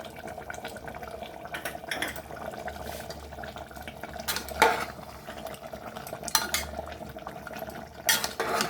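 A spoon stirs and clinks against a bowl as a little water is added to yogurt, with light scraping and a few sharper metallic taps over a quiet background.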